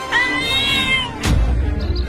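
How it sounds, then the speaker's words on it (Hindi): A cartoon cat mother yowls and caterwauls in a fight with a lion, a loud rising meow followed by a harsh burst and rumbling scuffle noise. "वो देखो, उन बिल्लियों की माँ उस शेर से लड़ गई है अपने बच्चों को बचाने के लिए"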